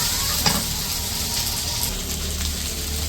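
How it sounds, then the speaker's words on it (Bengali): Vegetables fry in hot oil in a pan during the making of a hilsa fish curry. A loud, continuous sizzle with faint stirring scrapes sits close to the listener, with no talk. "সবজিগুলো একটু ভাজা ভাজা করে নিতেছে।"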